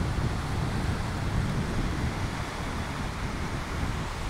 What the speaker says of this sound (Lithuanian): Ir vėjukas toksai gaivinantis, kuris atneša lietų.